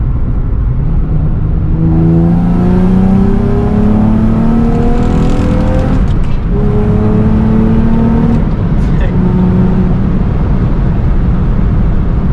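A Nissan 350Z with a manual gearbox revs and accelerates loudly from inside the car, its engine note climbing through successive gear pulls with brief dips at the shifts, a strong sustained roar with no talking.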